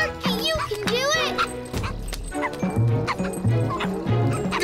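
Cartoon dogs bark and yip in quick bursts over lively animated-show music, with whimpers and bouncy sound effects mixed in and a loud thump midway.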